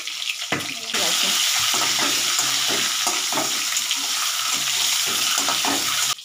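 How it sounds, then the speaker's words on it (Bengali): Duck eggs frying in oil in a pan with turmeric, chilli and cumin, a steady close sizzle with spoon scraping and stirring throughout, and a voice faintly under the sizzle. "ডিমটা আমার ভাজা হয়ে গেছে।"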